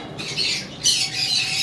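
A lutino pied cockatiel giving two harsh, grating squawks in close succession, loud and near with no voices.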